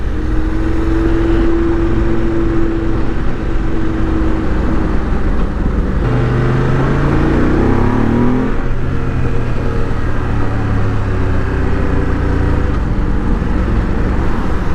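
A motorcycle on a test ride roars loudly and continuously, its engine revving up through rising pitch sweeps as it accelerates, with wind rush underneath and no voices.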